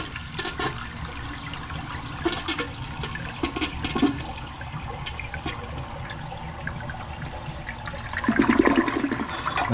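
A household toilet that leaks from its base is flushed with the water supply shut off, draining the tank. Rushing water and gurgling run steadily up close, then surge louder near the end as the bowl empties.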